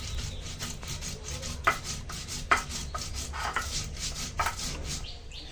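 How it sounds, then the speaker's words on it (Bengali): Mustard seeds ground into a paste with a little water, likely on a stone slab: a steady rasping, rubbing scrape runs throughout, close and moderately loud, with a few sharper knocks along the way. "সরিষাটা তো বেটে নিলাম"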